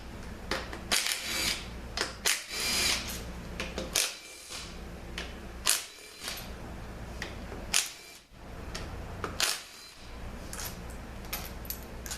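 Power tool bursts spin out the pump bolts during a TF6 transmission teardown on a Dodge van, several short loud buzzing runs separated by brief pauses, with no talking.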